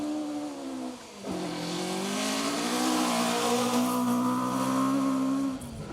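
A Ford Escort rally car runs hard along a forest stage in the Welsh Rally Championship, its engine revving loud and close with a gear-change dip near the start, then a sustained climbing drone that cuts off abruptly at the end.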